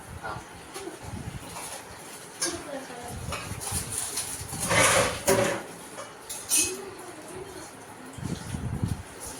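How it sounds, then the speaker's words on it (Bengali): A metal wok (karai) is scrubbed and washed in a home kitchen, with intermittent scraping, clinks and splashy rubbing bursts at close range, coming and going in irregular strokes. "কড়াটা ধুয়ে নিই।"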